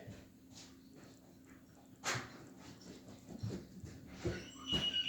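A dog whimpers and lets out a few short barks at moderate distance, with intermittent sharp sounds scattered over a low, steady background hum.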